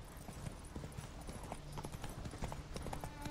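Horse hooves in The Witcher 3 clip-clop steadily in a quick, even gallop rhythm over a constant outdoor ambience, moderately loud and with no talking.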